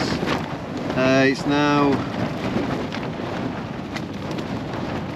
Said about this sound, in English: The wind has been relentless.